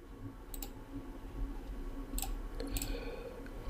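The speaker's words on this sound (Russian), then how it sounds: "Кликаем по кнопке." A computer mouse clicks a few times, sharp faint clicks spaced out over a quiet background hum, with no talking.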